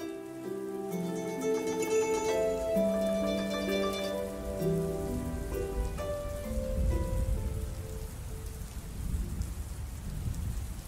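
Light rain falls outside for an audiobook sound effect, a steady wash of drops with low thunder-like rumbles, while sustained tonal music plays over it early on and fades.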